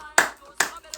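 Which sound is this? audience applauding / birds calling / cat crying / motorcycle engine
audience applauding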